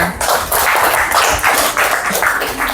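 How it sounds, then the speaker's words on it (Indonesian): Classroom applause for a student from a group of pupils, a burst of quick clapping that swells and pulses for a few seconds, loud and close. "Berikan tepuk tangan untuk Rina."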